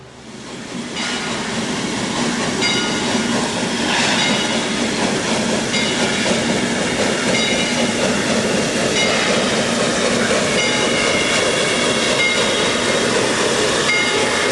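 A Heisler steam locomotive running at Roaring Camp, its loud, continuous chugging and rumbling broken by clacking wheels and occasional squeals, steady from start to finish with no voices.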